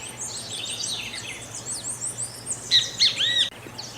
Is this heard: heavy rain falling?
no